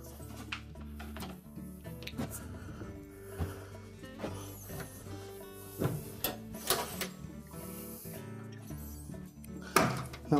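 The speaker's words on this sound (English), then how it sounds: "now we're ready to put the front panel back on" A Whirlpool dryer's front panel being fitted back on during an idler pulley repair: scattered plastic and metal clunks, taps and scrapes at close range, with a louder knock near the end.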